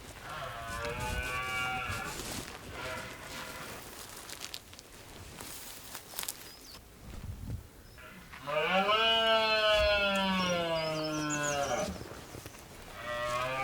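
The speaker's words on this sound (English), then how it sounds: "You can hear the stag bellowing" A red deer stag bellows nearby during a hunt, with long, loud, groaning roars that rise and fall, separated by quieter gaps and light rustling.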